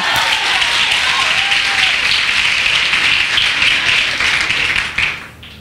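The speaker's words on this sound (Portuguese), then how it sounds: "dê um brado de júbilo e aplauda o nome do Senhor." Church congregation applauding during a women's service, dense sustained clapping filling the room, loud and steady before tapering off at the end.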